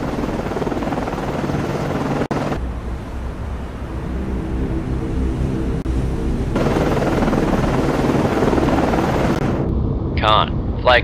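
An SH-60 helicopter flies in the Cold Waters naval game at night, a loud, steady rotor and engine drone, with brief radio-style voices near the end.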